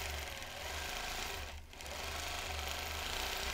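A sewing machine stitches fabric into feather plume shapes with a fast, steady mechanical whirr and needle chatter. It pauses briefly midway, then resumes at the same even pace, with no talking.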